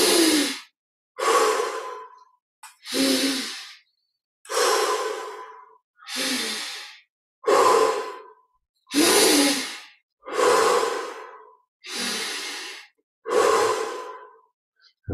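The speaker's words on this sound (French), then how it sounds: "On respire profondément" Slow, deep breaths during guided meditation, about ten long exhalations close to the microphone, each a breathy sigh separated by short silences in an even rhythm.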